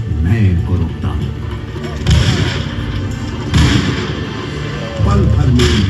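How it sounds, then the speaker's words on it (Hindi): Bursts of gunfire sound effects in a light-and-sound show at Chandrashekhar Azad Park, Prayagraj, depicting police firing on Azad; repeated heavy booming volleys about every 1.5 seconds over a continuous rumbling music bed. "पल भर में नॉट पावर ने आजाद पर गोलियां बरसानी शुरू कर दी।"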